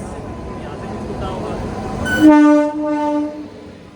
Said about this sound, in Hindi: यही हमारी टनकपुर दराई एक्सप्रेस।